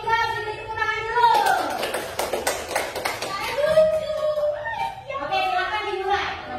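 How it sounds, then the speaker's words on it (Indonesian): Classroom of children clapping for a student group, with broadband claps mixed among kids' voices and talk throughout, moderately loud and busy for several seconds. "untuk kelompok 3 beri tepuk tangan dulu"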